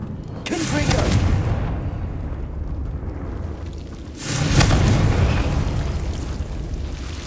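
Two heavy booming blasts from the Confringo explosive spell in Hogwarts Legacy, each a loud burst that trails off into a long rumble, with the second arriving about four seconds after the first.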